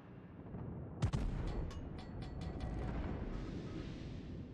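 Main battery guns of a warship firing in World of Warships, a sharp boom followed by a rumbling spread of shell echoes over steady engine and sea noise, loud and close.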